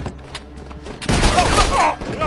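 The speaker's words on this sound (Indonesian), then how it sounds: "Lalu semua penjaga Sang-tae ditembak" Gunfire in an action film: a dense, loud burst of shots breaks in about a second into the clip, following quieter background sound, and carries on to the end as rapid overlapping fire.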